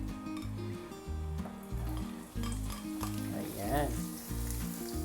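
Onions going into hot cooking oil in a pan for a tomato and egg dish: a faint, steady sizzle under music, with a brief spoken word partway through.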